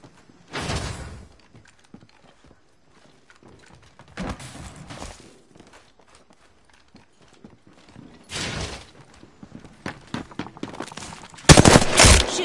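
Gunfire in the video game Apex comes in separated bursts of rapid shots, each lasting about a second, followed by a louder final burst, with quieter mechanical clicks in between.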